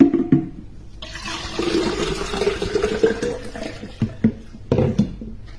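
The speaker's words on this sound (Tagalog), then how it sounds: "Kuha muna tayo ng tubig na babaunin ko dun sa park." Tap water runs into a bottle, a steady splashing gush that starts after a brief knock, continues with rising filling tones, then breaks into a few clunks and short splashes near the end, heard close and without talk.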